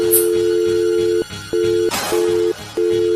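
Steady electronic phone ringback tone after dialing a number, repeating in even pulses with short gaps, loud and close, no talk.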